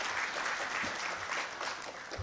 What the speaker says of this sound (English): a round of applause for Subhendu Bhai